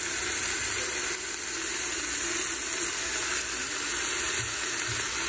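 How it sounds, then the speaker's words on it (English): Meat searing in a hot pan gives off a steady, close sizzle with a faint high whine throughout, no voices. "You can hear the sizzle."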